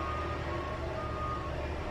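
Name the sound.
truck passing on street during road work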